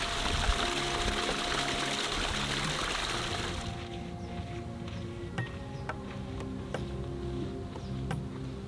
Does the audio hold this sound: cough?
no